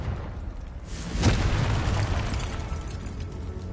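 A Confringo spell blast in the Hogwarts Legacy video game lands as one broad, booming explosion that swells up suddenly and then rumbles on with a sustained fiery roar, loud and close, with no talk over it.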